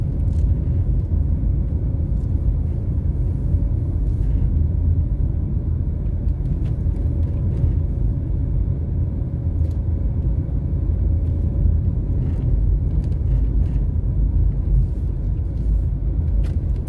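Car climbing a hill along Gibson Drive through the upscale Hope Pastures neighbourhood in Kingston, Jamaica, a steady low engine and road rumble that stays even and continuous throughout, with no talk.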